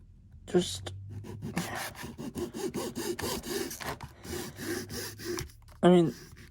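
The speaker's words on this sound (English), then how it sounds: "And the plan is I'll use the hacksaw." A hacksaw cuts a cosplay hoof in short back-and-forth strokes, a close, rhythmic rasping sawing that repeats steadily, with a brief louder scrape near the end.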